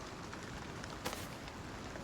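Light rain patters steadily in the survival game Icarus, a faint, even hiss with one brief louder splash partway through.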